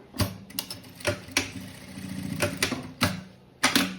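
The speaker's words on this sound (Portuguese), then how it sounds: "E a gente vai fazer uma costurinha de segurança aqui na alça, ó. Vou costurar." A sewing machine stitches a safety seam across a bag strap, giving short bursts of rapid mechanical clatter with sharp knocks in between and a brief steadier run of humming stitches, close and with no talking.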